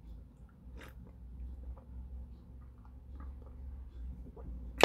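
Someone eats shrimp and meat dumplings up close, with soft bites, chewing and occasional light crunchy clicks over a low background rumble, no talking.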